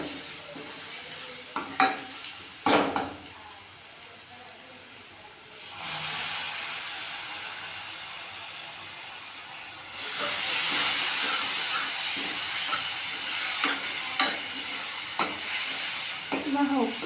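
A tadka tempering for light moong dal frying in the pan, with spices and black pepper, a loud sustained hiss and sizzle that surges twice and holds, broken by stirring knocks, close with no speech.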